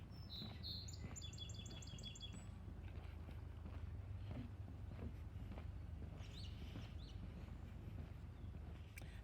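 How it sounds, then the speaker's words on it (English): Songbirds chirp beside a lake: a quick series of bright, repeated tweets opens the stretch, then fainter calls follow over steady footsteps and a low background rumble. "There's lots and lots of birds around here too."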